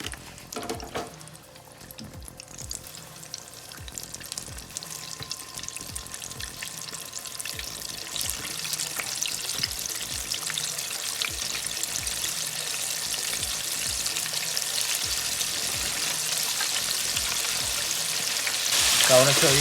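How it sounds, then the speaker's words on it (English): Sesame chicken sticks deep-fry in a fryer heated to 375 degrees, giving a continuous bubbling sizzle that grows louder and denser over the stretch. "I had the fryer heating at 375. Just gonna drop it down."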